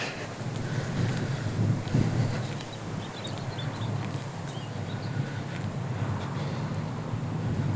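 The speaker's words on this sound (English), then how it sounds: "It's a bit windy up here." Steady wind buffeting a microphone at Mepal Outdoor Centre in the Fens, a continuous low rumble with gusty swells throughout and no talking.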